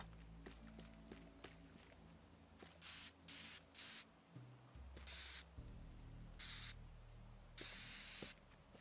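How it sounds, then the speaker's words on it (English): A spray can hisses in the physics game Teardown, several short bursts and one longer spray, loud and close, between soft footsteps and low background hum, with no talking. "you got a spray can, you got to use it"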